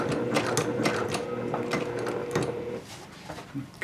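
A sewing machine stitches fabric along a curve while making a courier bag, running in rapid mechanical bursts up close with short pauses and a slowing toward the end.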